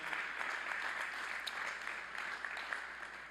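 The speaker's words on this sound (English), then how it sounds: "How about a round of applause for both of our honorary recipients today?" Steady applause from a commencement audience honoring honorary degree recipients at a spring university graduation ceremony, a dense, continuous patter of many hands clapping throughout without a break.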